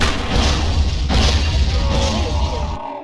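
A bomb explodes in a video game minigame, a loud sustained blast with a crashing, shattering wash that runs for most of the moment before cutting off abruptly.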